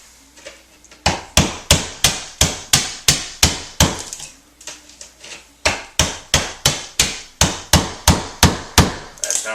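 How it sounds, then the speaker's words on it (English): Sharp chisel struck repeatedly to chip away part of a wooden wall stud, close and loud: a steady run of crisp, evenly spaced knocks, a brief pause, then another regular series of blows. "and a sharp chisel, and I'm just taking away a little bit of this stud"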